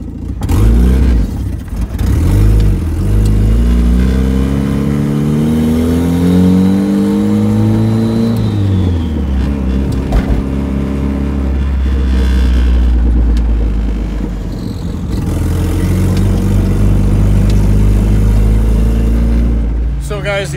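A Nissan 180 car engine revs repeatedly through a loud exhaust with a new downpipe, rising and falling in pitch with throaty rumbles, close by, with a voice talking over it.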